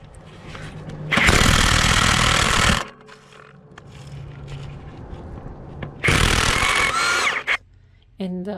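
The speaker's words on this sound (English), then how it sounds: "you could clearly see the socket stay still while the impact is reciprocating back and forth" An Ingersoll Rand W7152 impact wrench with a 19 mm socket hammering on a crank pulley bolt in two loud, sustained rattling bursts, separated by a quieter stretch of background noise.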